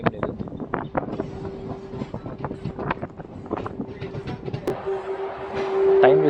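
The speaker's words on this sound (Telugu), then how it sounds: "శ్రీరామ్ నగర్ స్టేషన్కి మన ట్రైన్ చేరుకుంది" A MEMU train pulls into Sriram Nagar station with rhythmic clickety-clack over the rail joints and rising brake squeal toward the end, heard close from inside the coach.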